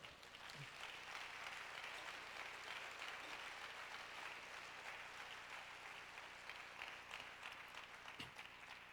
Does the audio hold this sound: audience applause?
yes